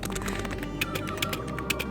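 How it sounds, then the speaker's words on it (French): Fingers tap quickly on a computer keyboard, irregular light clicks with a few sharper keystrokes, over a steady background hum. "il commence à pianoter sur son clavier"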